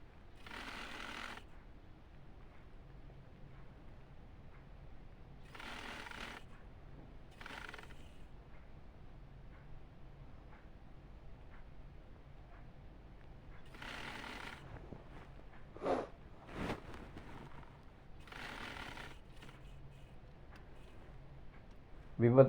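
A sewing machine stitches the side seam of a ladies' suit in several short whirring bursts separated by pauses, fairly quiet and close, with a voice talking in between.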